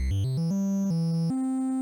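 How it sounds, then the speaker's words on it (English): NES-style triangle wave bass from a Nes VST plugin climbing in quick stepped notes, then holding a smooth, hollow sustained tone, clear and alone without any voices. "Then we have a triangle wave, usually used for bass lines, and it sounds like this."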